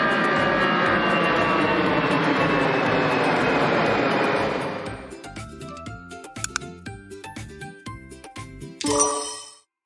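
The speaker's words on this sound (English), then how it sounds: "This is an airplane. It flies high like a big metal bird." A loud jet roar sweeps past and fades out, followed by light tinkling musical notes and a bright chime at the end.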